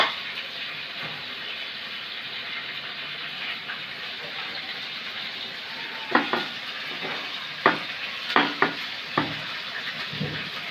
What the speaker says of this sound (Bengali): মাংসগুলো হালকা ভাজা হয়ে গেছে।